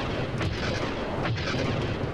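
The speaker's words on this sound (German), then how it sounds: "Ja, wir schießen sogar selber." Shooting during the trench run in the Star Wars Minecraft DLC video game: a dense, loud, continuous roar of gunfire with a few sharper bursts standing out, and no voices.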